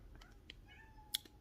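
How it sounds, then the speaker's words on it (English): A house cat meows once or twice, a soft, drawn-out call heard fairly faintly over a low background hum, with a sharp small click near the end. "I don't know if you can hear my cat."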